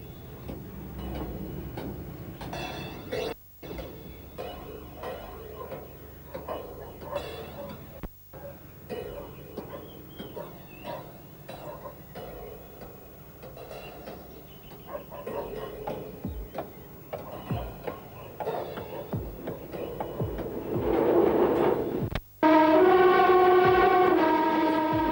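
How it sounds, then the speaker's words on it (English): A small passenger train on the Heart of Wales line rumbles and clicks along the rails at a distance, its wheel beats rising gradually, ending with a loud horn-like tone near the close, with a voice faintly heard. "The tiny train is still on time."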